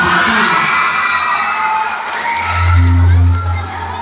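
An audience at a Filipino balagtasan verse debate cheers and shouts loudly as a crowd, with applause mixed into the sustained roar and a low humming tone swelling near the end.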